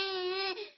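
A short, sustained crying wail from a single voice, steady and tonal for most of its length, then wavering and fading as it trails off, with no words spoken.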